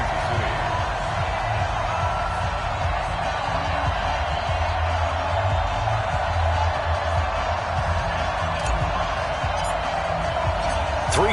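Steady roar of a sold-out stadium crowd cheering in an EA Sports NFL video game before a Patriots–Chiefs matchup, a continuous dense wash of noise under a commentator's voice.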